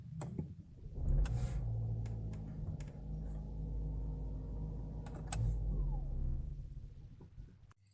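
A Range Rover Sport Hybrid starts up after its Starline i96v2 immobiliser is disarmed. A low engine rumble rises about a second in and settles into a steady idle, with a few light ticks and clicks over it.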